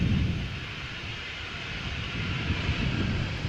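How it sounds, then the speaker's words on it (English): A KLM jet departs Amsterdam Schiphol in gusty crosswinds, a loud, broad, steady engine roar close by, sustained across the moment without voices. "It's going to be a turn and burn by the sound of it."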